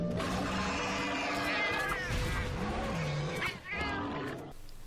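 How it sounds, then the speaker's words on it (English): Cats meowing in the video game Monster Hunter, several drawn-out, wavering mews overlapping at close range over a steady busy game background, with one louder cry near the end. "Oh hey, look, there's kitties here!"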